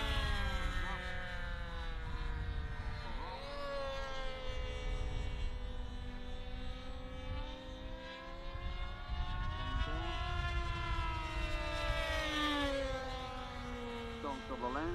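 Model aircraft arriving together at a Popham airshow, several engines buzzing and whining with rising and falling pitch as they pass, loud and continuous, with people talking in the background.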